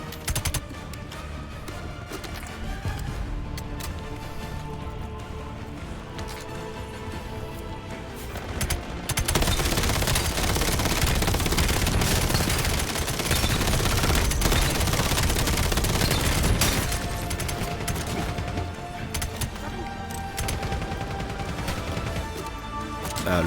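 Heavy automatic machine gun fire in the video game Black Ops 7, with long sustained bursts layered with other gunfire and crashes, loud and continuous, growing denser midway.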